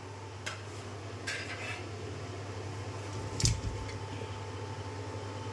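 Chicken goes into a cooking pot for kanthari chicken, with a few light metallic clinks and scrapes from the pot over a steady low kitchen hum, without talk.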